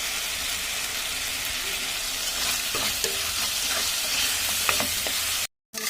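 Fish with turmeric being stirred and sautéed in a hot pan, a steady close sizzle with scraping stir strokes throughout, cutting out briefly near the end.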